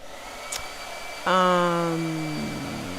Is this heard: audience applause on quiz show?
no